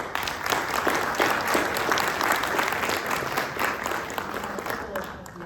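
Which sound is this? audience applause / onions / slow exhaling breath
audience applause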